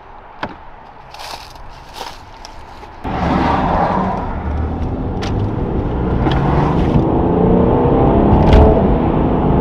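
A Mercedes C43 with camshaft covers leaking oil starts after a few clicks and settles into a loud, steady running engine rumble close by, with the idle rising slightly toward the end.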